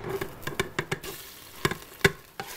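Beef stew meat browning in olive oil on the saute setting of a pressure cooker, with a string of sharp utensil scrapes and clicks over a faint sizzle, fairly quiet and without speech.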